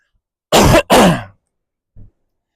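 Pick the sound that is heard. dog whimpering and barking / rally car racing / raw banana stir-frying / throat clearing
throat clearing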